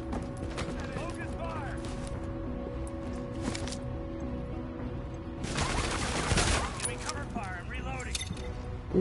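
Gunfire in The Division at Times Square, with a burst of rapid shots mid-clip and scattered clicks and game effects around it, heard alongside a voice.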